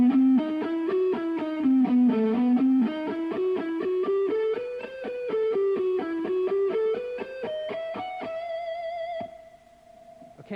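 Electric guitar with a distorted lead tone plays a slow ascending harmonic minor sequence, sustained notes stepping steadily upward for several seconds before ringing out into a held chord, loud and close with no voices.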